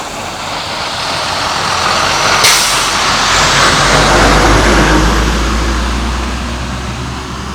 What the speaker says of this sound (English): You can see that truck is pulling right in there now.